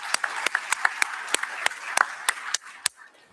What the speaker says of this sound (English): please join me in a round of applause to thank Ashley for her contribution.